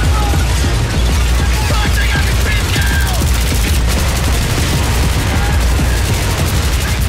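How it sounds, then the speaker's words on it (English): Carbine or machine gun fire in the video game Battlefield 3, Close Quarters indoor combat, crackles as dense, continuous loud bursts of shots with crashes and mechanical clatter throughout. "So you will be like a destruction machine, even only with your carbine or machine gun."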